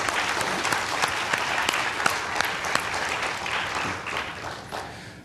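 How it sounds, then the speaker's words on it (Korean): Applause from a church congregation during a Korean worship service, a dense, steady wash of many hands clapping that holds at an even level for several seconds, then thins slightly near the end. "하나님께 감사의 박수를 드리겠습니다"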